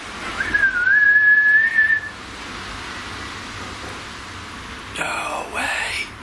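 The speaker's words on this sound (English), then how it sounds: "If I whistle, will you be able to whistle back for me?" A person whistles a sustained, gently rising tone for about two seconds during a paranormal investigation at an old mill, clear and fairly close over a faint hiss of background noise, with a brief rustle near the end.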